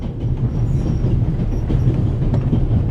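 Train rolling on rails in the video game The Raven, a steady, loud rumble with faint rhythmic clatter running through the whole stretch, no voices.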